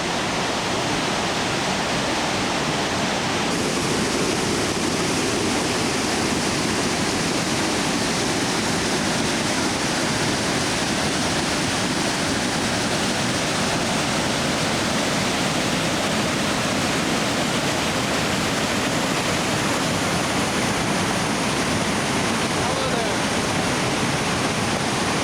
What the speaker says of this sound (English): in the bottom of the valley now at the waterfall